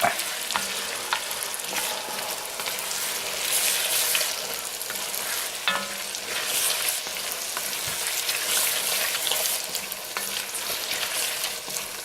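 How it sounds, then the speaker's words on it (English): Diced white onions and garlic sizzle steadily in a hot pot for clam chowder, a constant close frying hiss with occasional stirring scrapes and no talking. "we're going to add our onions and garlic"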